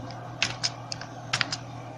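Someone types Java code on a computer keyboard in Android Studio: a handful of clear, close keystrokes in two small clusters, with a low electrical hum underneath.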